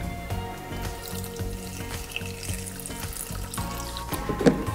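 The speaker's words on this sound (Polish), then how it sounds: "wlewam pół litra wody" Half a litre of water is poured into a kitchen food processor bowl over mint leaves, a continuous splashing trickle with small irregular knocks and a brief louder clatter near the end.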